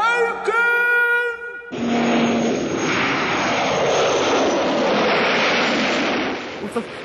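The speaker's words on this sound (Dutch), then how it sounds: "Wat was dat? Een vliegtuig." A propeller airplane roars past close overhead in a fairy-tale story, loud and steady before fading, after a brief tonal musical or voice sound at the start.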